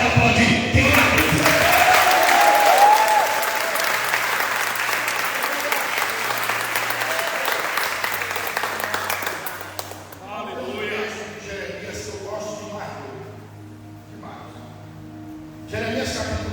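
Church congregation applauding at a Brazilian celebration worship service, a loud sustained burst for about ten seconds that thins out as a preacher resumes talking over scattered claps.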